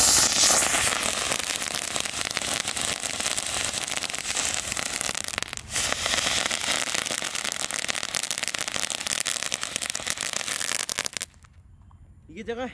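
A Hot Wheels toy car firecracker fizzes and crackles continuously for several seconds, a loud dense hiss with popping, then cuts out abruptly into near silence.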